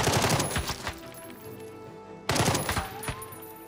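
Gunfire in the turn-based tactics game Jagged Alliance 3: bursts of automatic shots crackle in two loud clusters, separated by a quieter stretch of lingering ringing tones, with no voices.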